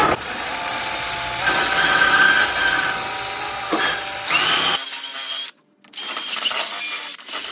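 A power grinder cuts a groove into the bracket of a John Deere riding mower, a loud, sustained metallic whine that shifts pitch as it bites, then cuts out briefly before starting up again.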